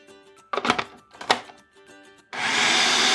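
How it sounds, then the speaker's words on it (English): Food processor pureeing onions for potato latkes, its motor switching on after a pause and running as a loud, steady whir until the end, preceded by a few short knocks and scrapes. "we're going to puree these very well in a food processor"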